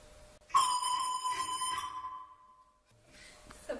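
A clear, sustained whistled tone glides slightly in pitch for over a second, then fades, followed by a brief faint voice.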